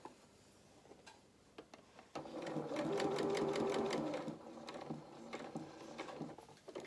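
A domestic sewing machine stitches a seam beside ruffles on children's dungarees or shorts, a quiet rhythmic ticking that builds into a steady run of about two seconds, then slows to scattered ticks.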